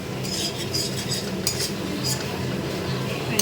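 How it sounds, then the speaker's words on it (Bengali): Food being stirred and mixed in a pan, with repeated metallic scraping and clinking of a utensil against the pan in a steady rhythm over a low background rumble. "ওটা ভালো করে মিক্স করে নিতে হবে।"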